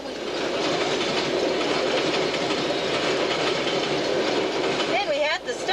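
Long freight train rolling past a road crossing on the Glen Highway near Kings Mountain, Alaska: a loud, continuous rumble with clattering wheels and a brief squeal near the end.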